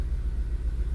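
Close, low rumble of a Vauxhall Astra J petrol engine idling with a misfire on cylinder 1, with faint regular pulses in its steady drone and no voices.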